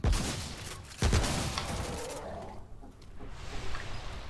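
Weapon shots in the video game Remnant: from the Ashes, two loud sharp blasts about a second apart, each trailing into a long noisy decay, then quieter ambience.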